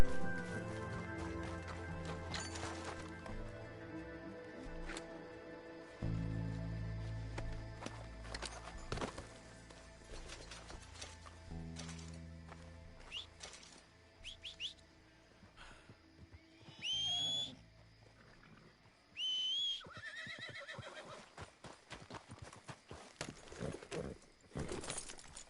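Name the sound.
horse hooves in a video game, likely Red Dead Redemption 2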